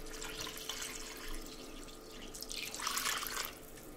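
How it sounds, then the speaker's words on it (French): Water being poured from a tap into a cooking pot holding pork with coarse salt, a soft continuous splashing trickle that swells near the end, close but faint, with no talking. "On va compléter avec de l'eau."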